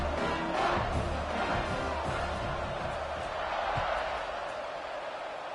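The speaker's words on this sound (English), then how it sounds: "this crowd is feeling themselves after that last drive" Steady stadium crowd roar from a college football video game, a dense, continuous wash of cheering and murmur that stays loud and even throughout, with a commentator's voice mixed in.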